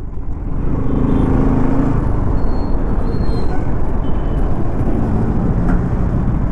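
A 2024 Bajaj Pulsar RS200 motorcycle ridden through city traffic, giving a steady, loud engine and road rumble with wind noise and surrounding traffic running the whole time.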